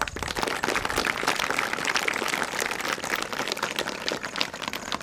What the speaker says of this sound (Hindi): इसलिए केवी के लिए एक बार जोरदार तालियां।